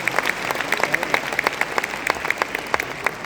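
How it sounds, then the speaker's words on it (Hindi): An audience at a network marketing business event claps for senior leaders, with distinct individual claps standing out over a softer wash of crowd applause, moderately loud and continuous. "तो एक जोरदार तालियां होनी चाहिए सारे सीनियर लीडर।"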